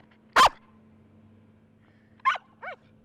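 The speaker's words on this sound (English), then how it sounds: "Sometimes the barking scares her" Dogs at a puppy meet and greet let out three short, sharp barks and yips, one near and loud, then two quicker ones after a pause, over a faint hum.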